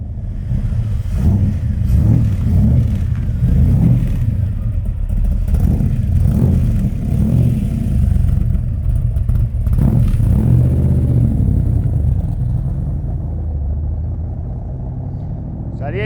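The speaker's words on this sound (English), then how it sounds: "It's a lovely deep engine noise from the side pipes on this one." A deep, rumbling Crendon Cobra sports car engine idles cold and revs loudly up close, throaty side-pipe exhaust dominating, with a voice briefly audible beneath it.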